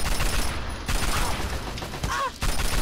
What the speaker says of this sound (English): Stop shooting me and let me shoot you.